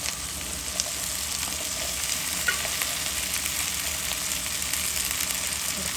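Sliced okra fries in hot oil with a little turmeric in a pan for Bengali dherosh vaji, giving a steady, close, unbroken sizzle with faint stirring clicks and no talking.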